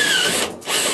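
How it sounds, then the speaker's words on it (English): A power drill bores a hole in ductwork for an anemometer probe, whining loud and close. The motor drops out briefly, then spins up again. "We're going to drill a hole."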